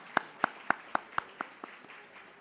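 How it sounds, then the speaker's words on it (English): A handful of people clap for new inductees at a student honors ceremony, about eight crisp, evenly spaced claps that gradually weaken and fade out within two seconds. "Let's have another round of applause for these new inductees."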